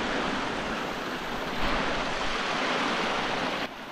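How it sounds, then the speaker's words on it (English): Meltwater creek runs loudly across a washed-out mountain hiking trail near snow patches, a dense, continuous rushing flow heard up close without speech. "And the trail is now a creek. Flowing pretty good."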